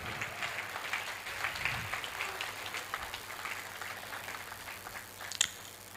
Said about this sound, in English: If your hands are still working, please keep clapping.